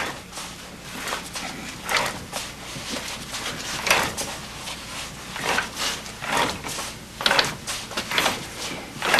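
A sardine can seaming machine runs with repeated mechanical clunks and rattling bursts at an uneven rhythm, close and moderately loud, turning with some effort.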